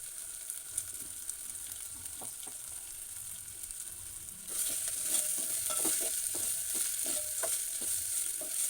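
Green chilies sizzle in oil in a pan for a mutton head curry, a steady frying hiss that jumps louder midway as more goes in, with a spatula scraping and tapping in an uneven rhythm.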